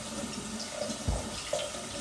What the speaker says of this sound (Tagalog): Huhugasan muna natin yung mga prutas.